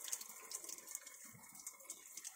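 Water pours down from above like a small waterfall inside an old Shiva temple, a steady close splashing and running flow with faint drip-like accents throughout.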